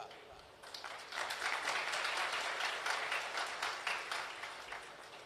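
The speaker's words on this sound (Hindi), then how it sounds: "अब ताली तो बजा रहे हो" Audience applause at a religious discourse, a dense crowd of clapping that swells in after a quiet moment, holds steady and loud for several seconds, then begins to thin toward the end.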